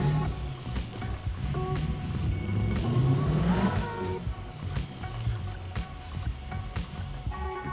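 A modded car's engine runs in Euro Truck Simulator 2, a steady rumble with a rising rev around the middle, then settling into an even drone with repeated faint clicks.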